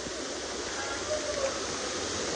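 Floodwater flows steadily through flooded village streets, a continuous broadband rushing wash with faint voices underneath.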